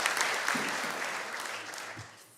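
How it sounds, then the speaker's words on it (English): Audience clapping at a SAMS UHI 2024 graduation ceremony, a moderate steady patter of many hands that slowly fades toward the end, with faint low voices underneath. "We'll give him a clap."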